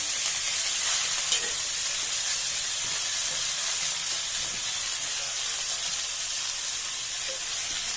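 Genhari saag greens dropped into hot oil in an iron wok, giving a loud, steady sizzling hiss that fills the whole clip with faint stirring scrapes, close by.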